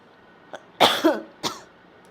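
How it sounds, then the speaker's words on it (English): A few sharp coughs in quick succession, close and fairly loud, with brief quiet gaps between them and no talking. "sorry for the cough problem"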